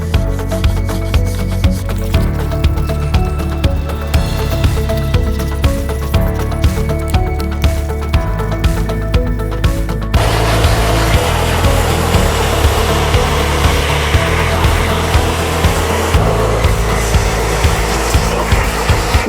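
Water spraying and splashing over Porsche 911 3.2 Carrera parts during a first rinse, a steady loud hiss that shifts to a broader, rougher wash about halfway through, continuous with no talking.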